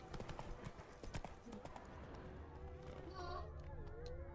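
Roach, the horse in The Witcher 3, gallops with quick, rhythmic clip-clop hoofbeats over a faint game soundscape. The hoofbeats are close and fairly quiet, and a voice talks briefly over them.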